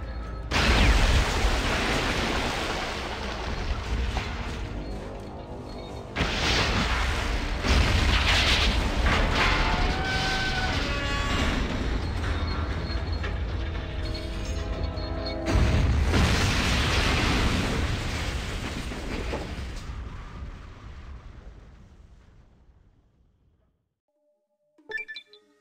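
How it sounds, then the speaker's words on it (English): Mariposa blowing up in a Fallout video game: a long, loud rumbling explosion roar that swells in waves for about twenty seconds, then fades out to silence with a brief final thump. "And here's the explosion of Mariposa."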